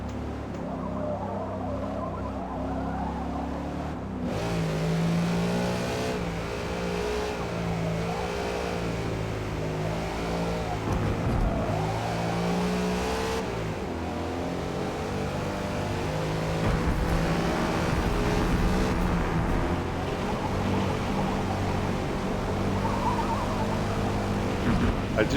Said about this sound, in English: You know, you can hear the back tire starting to let go.